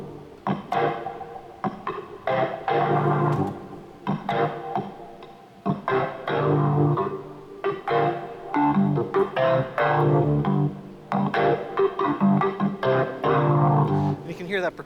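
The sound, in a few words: Hammond organ playing with percussion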